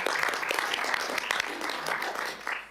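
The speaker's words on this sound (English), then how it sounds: "a quick round of applause for all the work and for coming here today" Applause from a committee meeting audience, a steady patter of many hands clapping at moderate volume for nearly three seconds with no speech over it.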